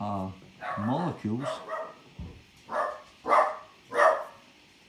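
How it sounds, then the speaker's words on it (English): A pet dog barks nearby in a home, several loud yaps in a quick run and then three spaced sharp barks, mixed in with a voice talking. "sorry, that's my dog"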